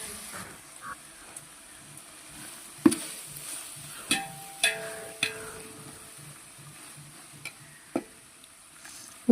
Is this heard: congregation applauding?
no